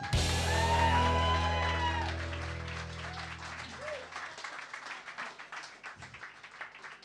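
Loud audience applause with some whoops greets a singer as he walks on stage, beginning with a sustained burst and slowly thinning into scattered clapping.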